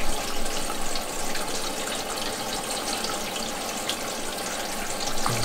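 Water sprays steadily from a new overhead shower filter into a goldfish tank holding a black ranchu, a continuous hissing splash at close range with no talking.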